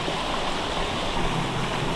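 Creek water in a Michigan woodland in spring flows in a steady, close broadband wash with no pauses, continuous and even throughout with no voices.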